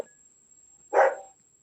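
A single dog barks once in the background, short and muffled, standing out from an otherwise quiet room with a faint steady tone.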